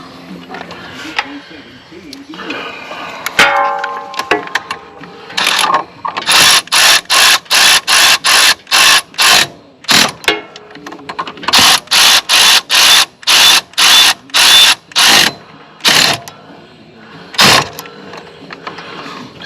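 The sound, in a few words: bolts being turned to push idler pulley off hub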